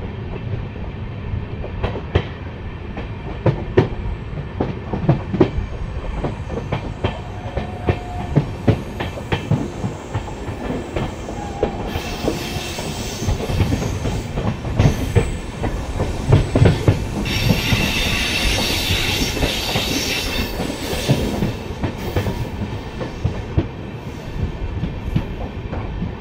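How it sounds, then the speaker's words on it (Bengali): The Kolkata-Sairang Express rolls into Murshidabad Junction with a loud, continuous rumble, rhythmic clickety-clack of wheels over rail joints and brief metallic wheel squeals, no voices. "ট্রেন এখন মুর্শিদাবাদ জংশনে ঢুকছে।"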